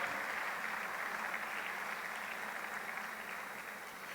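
Church congregation clapping during a sermon, a faint, even, continuous patter of many hands held steady throughout, with no voices on top.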